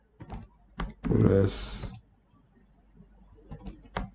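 Clicks on a computer keyboard come in short separate bursts around a spoken word, soft and close, with quiet gaps in between.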